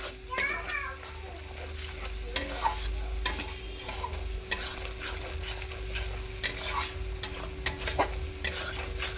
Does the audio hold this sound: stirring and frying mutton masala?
yes